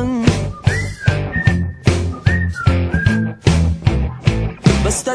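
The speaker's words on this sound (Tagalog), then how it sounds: "Pasipol-sipol na lang" Melodic whistling in a steady tune, with sustained pitched notes laid over a rhythmic backing beat and bass. The whistle is clear and prominent throughout the music, with no voice heard.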